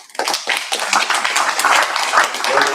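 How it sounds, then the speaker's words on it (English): A small group at a Board of Aldermen meeting gives a team a round of applause, building from a few scattered claps into a moderate, uneven patter. "we would love to support them and give them a round of applause this evening"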